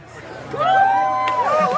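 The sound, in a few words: crowd chatter at pawpaw eating contest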